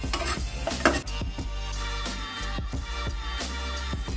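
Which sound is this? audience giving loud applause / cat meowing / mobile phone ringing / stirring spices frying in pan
stirring spices frying in pan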